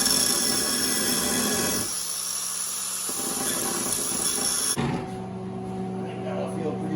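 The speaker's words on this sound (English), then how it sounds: "Grind that off really quick." An angle grinder grinds a weld off homemade metal weights, a loud continuous whine with broad hiss that drops out briefly and shifts pitch partway through, heard close and alone.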